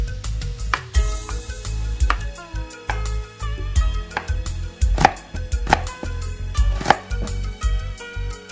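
A knife slices cabbage and carrot for Japanese yakisoba, producing quick, irregular chopping taps on a cutting board close up, with background music running underneath.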